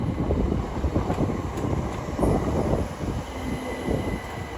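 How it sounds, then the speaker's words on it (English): A Southern Class 377 electric unit, 377706, on a terminating service from East Croydon, pulls into Watford Junction on the West Coast Main Line. It gives a steady, loud rolling rumble with wheel and wind noise throughout, and no voices. "Arriving now will be at terminating southern service from East Croydon. Uniform 377706."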